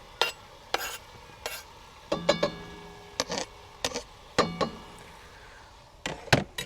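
Chopped onion frying in a pan at a caravan beach camp, a faint low sizzle punctuated by irregular loud clacks and scrapes of a utensil stirring against the pan, close up and without talk.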